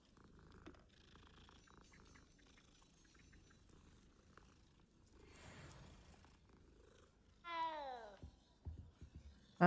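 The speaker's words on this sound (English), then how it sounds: "That was an aggressive meow." A cat purring softly and then giving a sharp, rising meow near the end, in the wizarding game Hogwarts Legacy, set in a quiet room with faint background sound.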